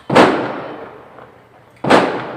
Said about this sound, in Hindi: तो अभी पटाखे बज रहे हैं